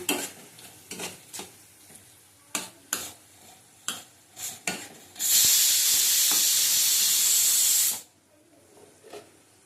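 Crushed ginger hits a hot pan with a sudden, loud, sustained sizzling hiss lasting about three seconds, preceded by several sharp scraping and stirring knocks, then cutting back to quiet.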